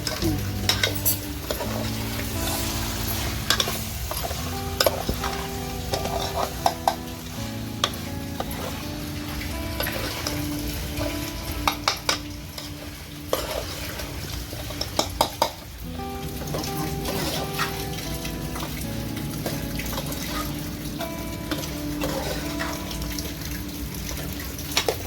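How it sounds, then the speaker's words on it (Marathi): Marinated chicken fries over a wood-fired stove with browned onion, a dense continuous sizzle punctuated by frequent clattering stirs and scrapes of the spoon against the pot, up close and steady for a long stretch, nobody speaking. "आपला कांदा व्यवस्थित झाला आहे ब्राऊन. आता आपण टाकतो चिकन जे मॅरिनेशन केलं होतं."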